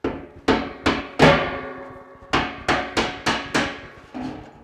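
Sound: hammer tapping a metal pipe fitting

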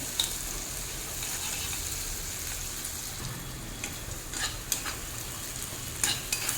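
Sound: ginger garlic paste frying in a pan

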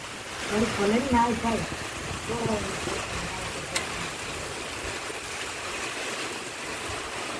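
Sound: heavy downpour of rain

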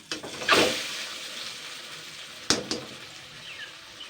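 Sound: drained taro leaves added to pan, frying

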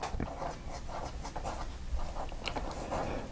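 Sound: Esterbrook fountain pen nib writing with Noodler's black ink

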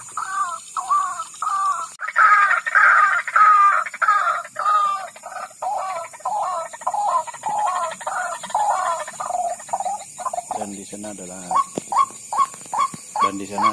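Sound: ruak-ruak (white-breasted waterhen) calls at night

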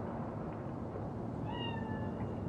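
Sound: cat meowing, cat spirit in Cyberpunk 2077 video game

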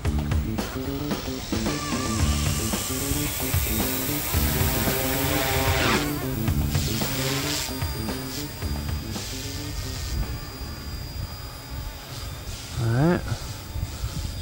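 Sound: OMPHobby M2 EVO RC helicopter flying

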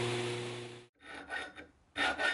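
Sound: filing a knife's sharpening choil with a chainsaw file

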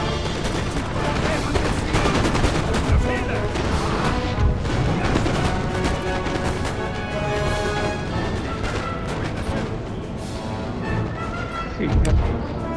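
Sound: musket gunfire in battle, from video game Napoleon Total War

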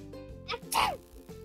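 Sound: sneeze

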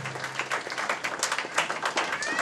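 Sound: applause at bingo dance

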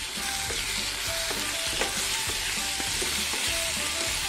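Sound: turmeric powder stirred into frying mixture

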